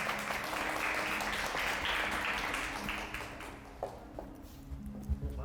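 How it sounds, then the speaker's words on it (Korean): An audience applauds at the opening ceremony of a Korean poetry and performance event, steady clapping filling the first few seconds before thinning out into scattered claps and fading away. "우리 박수 한번 부탁드리겠습니다"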